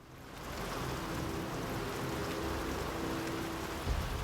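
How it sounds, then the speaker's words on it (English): Quiet, steady rainfall in the horror video game Saw II: Flesh and Blood, a soft continuous patter and hiss with a faint low hum underneath. "Is it raining outside?"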